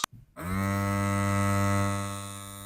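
A small DIY mini water pump driven by a 9-volt motor spins up after a brief click, settling into a steady high-pitched electric whine with a strong buzzing hum, close and continuous before tapering slightly.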